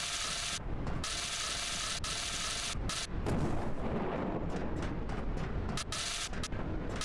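Turret gunfire in the video game Surviving Ceres, rapid mechanical clattering bursts of shots with brief gaps, loud and close, with no talking.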